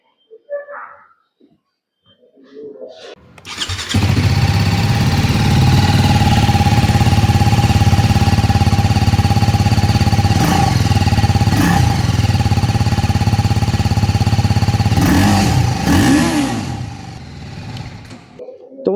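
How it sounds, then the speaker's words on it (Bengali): A TVS Apache RTR 310 motorcycle engine starts after a few seconds and runs loudly and steadily at idle, with a couple of brief revs toward the end, close to the listener. "চলো আমি তোমাদের এবার বাইকটার সাউন্ডটা শুনে দিই তাহলে তোমরা চেক করে বুঝতে পারবা যে বাইকটার থ্রি টেনের সাউন্ড এখন কেমন আসছে"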